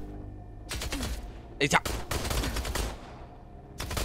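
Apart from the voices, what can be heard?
gunfire in the video game INDUSTRIA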